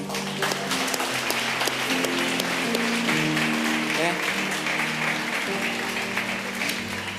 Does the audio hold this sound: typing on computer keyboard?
no